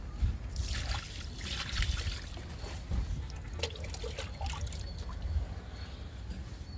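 Kitchen waste liquid is poured onto garden plants in grow bags after rain, making soft, quiet trickling and dribbling with scattered small splashes over faint outdoor background.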